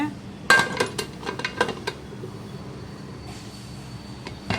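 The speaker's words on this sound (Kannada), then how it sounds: "ಕುಕ್ಕರ್ ಮುಚ್ಚಲ ಮುಚ್ಚುತ್ತೀನಿ" A pressure cooker lid is fitted and closed over a pot of rice and lentils, several sharp metallic clanks and clinks up close, then quieter handling noise.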